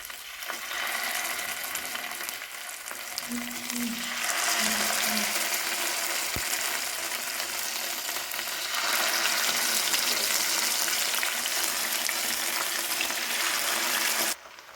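Masala-coated sardines (mathi) fry in a pan with a steady, close sizzle that swells louder midway and cuts off abruptly near the end, no voices.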